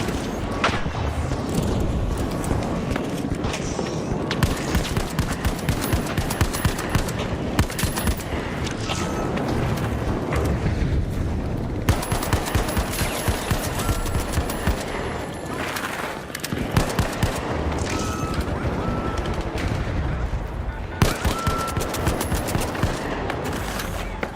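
Gunfire in the video game The Finals, with dense rapid bursts of automatic fire and heavy booms that continue almost without pause, loud and close throughout.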